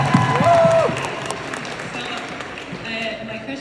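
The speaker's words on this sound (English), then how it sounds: "Everyone give a round of applause." Convention audience applauding at a comic con panel in a large hall, a steady wash of clapping with some crowd noise and a voice talking over the start.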